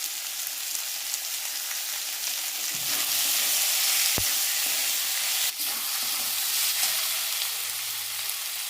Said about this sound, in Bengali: আদা রসুনটা ভালোভাবে ভেজে নিয়েছি, এবার টমেটোগুলো দিয়ে দিচ্ছি।